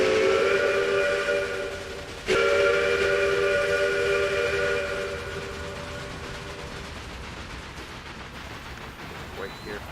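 A steam locomotive whistle sounds in Railway Empire, a long multi-tone blast that cuts off after two seconds and is followed by a sharp clank and a second long whistle, then rolling train noise fading into the distance.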